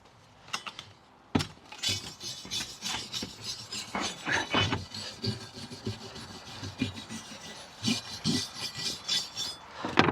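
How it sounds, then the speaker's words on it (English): Scrubbing the grimy underside of an old cider press part during restoration, a steady rasping, brushing scrape in uneven strokes with occasional knocks and clinks, close and fairly loud, with no talking. "So we'll just give it a good little scrub here."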